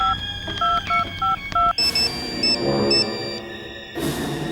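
Telephone keypad tones dialing a number, a quick run of about eight beeps in an uneven rhythm, followed by a ringing tone and background music in a tense crime-drama scene.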